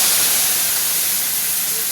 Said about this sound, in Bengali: টমেটো আর কড়াইশুঁটি দিয়ে দিলাম তেলের মধ্যে